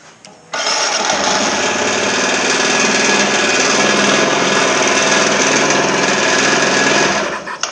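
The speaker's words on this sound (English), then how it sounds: "A little bit of chatter in the engine." A rebuilt Kawasaki Z125 Pro motorcycle engine fires and runs steadily at close range, a loud, continuous, buzzing mechanical drone with a slight chatter. It holds for about seven seconds, then cuts off. No one speaks.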